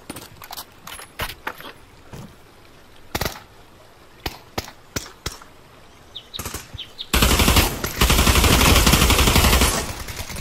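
Pistol gunfire in the VR shooter Pavlov VR: a string of sharp, separate shots at uneven intervals, followed by a dense, sustained burst of rapid fire near the end.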